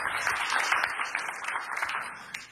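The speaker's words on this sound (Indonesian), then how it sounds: "Tepuk tangan yang meriah." Enthusiastic applause from a church congregation during a pastor's sermon, dense and steady throughout with no voices over it.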